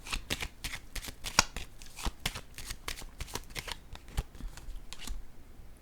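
Tarot cards being shuffled by hand for a reading, a close, quiet run of quick riffling flicks and soft slaps in an uneven rhythm that stops shortly before the end, with no talking.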